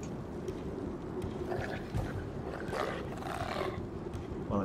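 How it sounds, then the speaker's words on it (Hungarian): A wolf growls in Shadow of the Tomb Raider, a low rumbling snarl that runs continuously under rustling ambience and rises briefly near the end. "Valami farkas."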